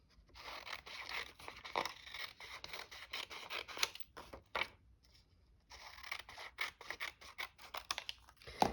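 Scissors snip through gold trimming paper in short, close, rasping cuts, coming in quick runs with brief pauses between them, fairly quiet and without talking.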